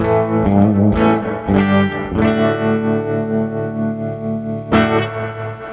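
Distorted electric guitar on its bridge pickup with a bright, biting tone, playing a few rhythmic chord stabs then a sustained ringing chord, with tremolo adding a swirling, echoey edge.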